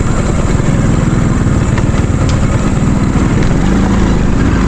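A motorcycle engine runs in a steady, loud drone throughout a ride down a mountain road, with no pauses or gear changes standing out.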